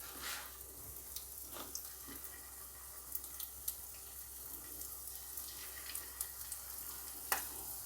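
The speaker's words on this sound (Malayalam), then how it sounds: "അപ്പം ഞങ്ങൾക്ക് അതിൽ ഫ്രൈ ചെയ്തെടുക്കാം." Prawns frying in oil in a pan, a steady soft sizzle with scattered crackles and pops running throughout, heard alone at low level.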